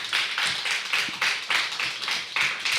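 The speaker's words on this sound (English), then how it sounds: "Please, big round of applause." Audience at an open mic clapping in a moderately sized, rhythmic burst of applause, with evenly spaced pulses of hand claps and no talking.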